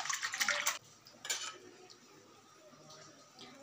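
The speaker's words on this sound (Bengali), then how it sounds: "এইভাবে কয়েকটা বার ভালোভাবে ধুয়ে নিতে হবে।" Mutton liver being washed in water in a pot: two short bursts of splashing and clinking against the metal, close by, then a quiet stretch.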